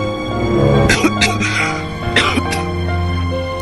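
A cartoon father coughs and clears his throat in a few rough bursts, close and fairly loud, with cartoon dialogue and music around it.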